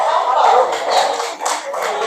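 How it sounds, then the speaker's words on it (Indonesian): Audience of students at an educational talk clapping their hands, a dense, steady patter of hand claps filling the moment. "Kasih tepuk tangan dong"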